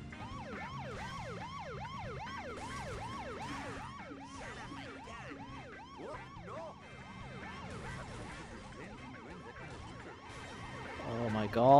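Police car sirens in The Simpsons: Hit and Run video game, several wailing, overlapping sirens cycling rapidly up and down, ending with a brief crash.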